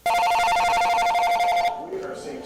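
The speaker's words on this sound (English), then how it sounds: "the phone rang" A telephone rings loudly in a fast, trilling electronic burst, then cuts off as a voice begins to speak.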